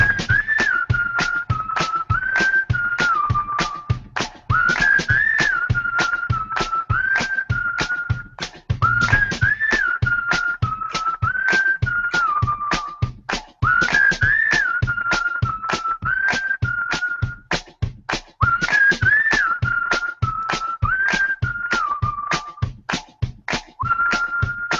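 A person whistles a bright, repeating melodic tune over a steady ticking beat, clear and up close, the phrases looping in regular patterns with short breaks between them.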